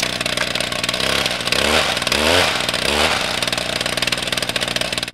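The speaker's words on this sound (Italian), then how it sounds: "Possiede una motosega." A chainsaw roars loudly and close, its engine revving up and down in a harsh, buzzing drone.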